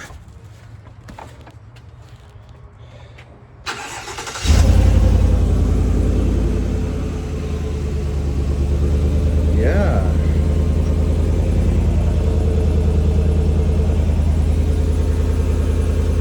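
A Chevrolet Silverado Trail Boss Z71 with a bolt-on Flowmaster muffler cranks and fires up, a sudden loud roar settling into a steady deep rumbling idle, heard close after a brief spoken word.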